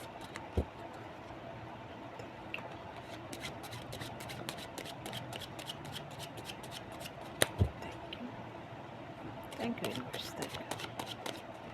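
Tarot cards being shuffled in a quiet room, giving soft continuous riffling with scattered crisp ticks and snaps, a few sharper card slaps and a busier flurry near the end, no voices.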